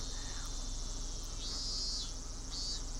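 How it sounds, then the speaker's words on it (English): Cicadas crying outdoors in the Higurashi visual novel game, a steady high-pitched buzzing drone with two brief louder swells, continuous and moderately loud over a low background hum. "Outside, it was still early enough for the cicadas to be crying."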